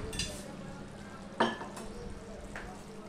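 Ghee is stirred into a vegetarian pumpkin curry in a hot pan, a soft, steady sizzle under a few distinct scraping spoon strokes.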